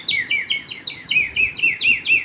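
A water-filled bird whistle toy blown in quick bursts, giving a loud, close, warbling chirp that rises and falls about ten times in rapid rhythm.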